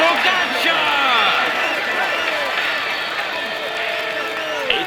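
A large crowd cheers and applauds a Tour de France rider in a cycling video game, a steady dense roar with whistles and shouts that stays loud throughout, with a commentator talking over it.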